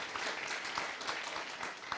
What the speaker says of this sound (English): I would say a big round of applause and thank you for the rapporteurs.